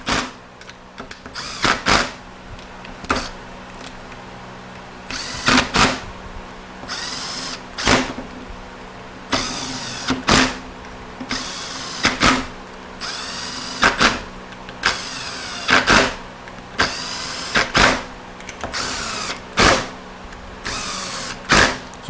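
Power driver snugging bolts on a 68RFE transmission during a rebuild, in a series of short whirring bursts of a second or two each, repeated steadily with brief pauses between, close and loud.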